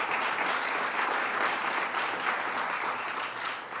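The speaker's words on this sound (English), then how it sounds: "Let's give them a round of applause." An audience at the grand opening of the National Comedy Center in Jamestown claps in a dense, steady burst of applause that tapers slightly at the end.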